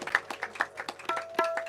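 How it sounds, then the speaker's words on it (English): Audience clapping at a live music show, a light, sparse patter of individual claps that comes and goes in small bunches, close and fairly soft, with no talk over it. "Come on, put your hands together."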